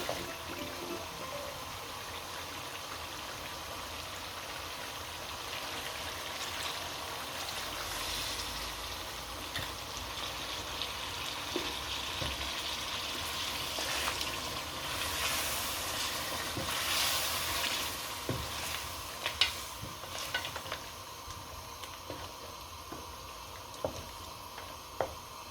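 Water poured into a pan of already fried mutton karahi gosht hisses and sizzles in a steady, moderately loud wash, with a few sharp pops and clinks near the end and no talking.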